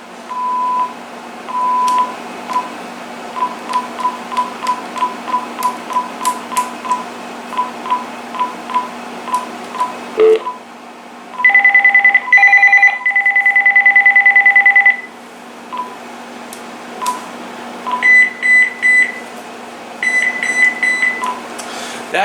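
A Uniden TRU8885-3HS cordless phone system sounds its find-handset paging: a steady run of short, evenly spaced electronic beeps, then sustained ringing tone bursts and later clustered warbling beeps, loud and close with no talking.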